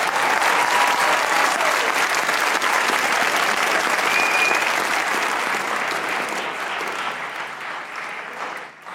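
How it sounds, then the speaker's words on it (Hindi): A television comedy-show studio audience breaks into loud, sustained applause, a dense wash of clapping that holds steady for most of the stretch before gradually thinning and fading toward the end. "अरे भाई साहब, तालियां होनी चाहिए"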